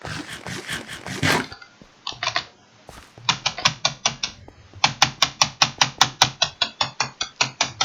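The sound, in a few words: typing on a membrane computer keyboard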